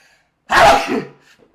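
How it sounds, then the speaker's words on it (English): A single loud sneeze bursts out close by and trails off with a short breathy tail. "I'm going to sneeze"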